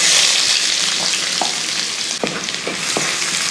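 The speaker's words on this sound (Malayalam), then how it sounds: "സവാള ഇട്ട് നമുക്കൊന്ന് വഴറ്റിയെടുക്കാം" Sliced onion fries in hot coconut oil with mustard seeds, giving a loud, dense, continuous sizzle up close, broken by a few soft scraping stirs.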